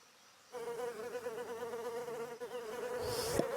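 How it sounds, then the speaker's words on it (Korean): Several flies buzz steadily and close up, a continuous wavering drone that starts abruptly and holds loud throughout, with no talking. "아놀드, 파리와 싸우는 건 추천하지 않아요"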